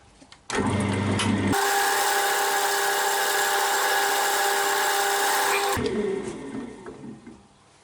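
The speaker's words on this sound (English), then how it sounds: "Just got to buff a little bit more up on the outside." An ash bowl being buffed on a spinning wood lathe, a steady high motor whine and hum that starts abruptly, holds for several seconds, then winds down, close and loud.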